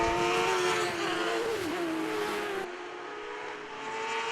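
Formula Jedi single-seater race cars lapping a circuit during a championship race, with one high engine note wailing steadily and shifting pitch, loud and close throughout with a slight dip in level partway through, and no talk.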